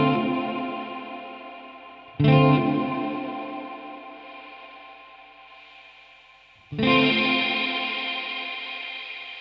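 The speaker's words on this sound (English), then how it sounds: "Hear how the reverb tone almost sounds a bit muffled now?" Guitar chords played through a reverb effect pedal set to a muffled, warmer tone, two struck chords each ringing out in a long smooth decaying wash with no talking.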